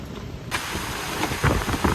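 Rain from a typhoon falls around a car during a camping trip, a steady loud hiss of heavy drops with gusty surges and occasional sharper spatters close by.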